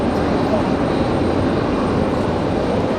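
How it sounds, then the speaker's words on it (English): An Alaska Airlines airliner taxis around a corner at Raleigh-Durham International Airport, its engines giving a steady, loud broadband roar that stays constant throughout with no voices. "Alaska Airlines coming around the corner now."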